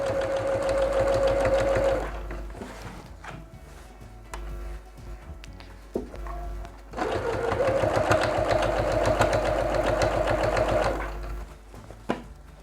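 A sewing machine stitches bias binding around the curved edge of a homemade slipper, running in two close, steady whirring bursts with a quieter pause of handling between them.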